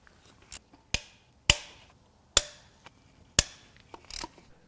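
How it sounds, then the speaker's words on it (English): A socket being hammered onto the mutilated bolt heads of a 2021 Subaru WRX FA20DIT engine, five sharp metallic strikes at irregular intervals with ringing decay and a few lighter taps between, close up, no talk. "I'm going to have to hammer the socket on all of those."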